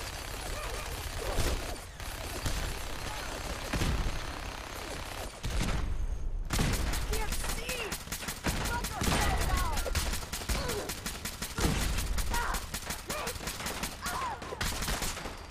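Gunfire rings out in the Fallout 4 video game: repeated rapid bursts and single shots crackle loudly over several seconds, mixed with other game sounds.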